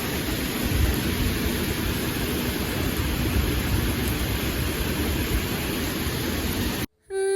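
Steady rain falls with a cool wind, a dense, even hiss that fills the scene without pause before cutting off abruptly near the end. No one speaks.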